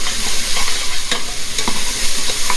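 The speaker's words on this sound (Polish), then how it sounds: "Smażymy sobie wstępnie." Food, ahead of adding mussels, sizzles and crackles as it pre-fries in a hot pan, with scattered pops and occasional stirring scrapes, close and continuous, no talking.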